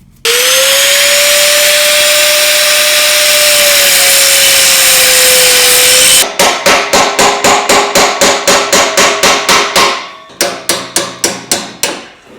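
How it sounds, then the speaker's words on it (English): An angle grinder whines steadily at close range while cutting off a seized exhaust nut on a 2-litre diesel Ford Mondeo Mk5, then gives way to a loud, rapid series of metallic hammer-like impacts near the end. "I'm just going to get the angle grinder and cut this nut off."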